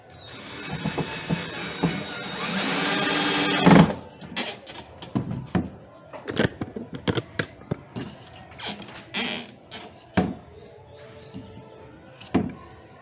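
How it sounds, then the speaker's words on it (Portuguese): A drill bores into wood, then a screw is driven to fix a handle onto a wooden toy kitchen: a sustained whir for a few seconds followed by short, bursty ratcheting spurts near the mic. "fiz um furo com a broca para não lascar a madeira e aí estou parafusando."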